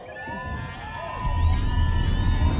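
A rally crowd at the 2024 DA manifesto launch in South Africa cheers and applauds as the federal leadership is invited onstage, a low roar that swells louder midway and continues over steady tonal music.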